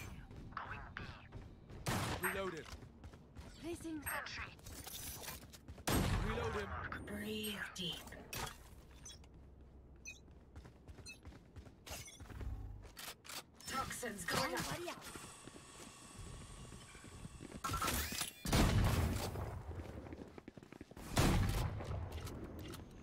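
Gunfire in a tactical online shooter match, with bursts of shots and bursts of loud game effects mixed among a player's talk and other game sounds.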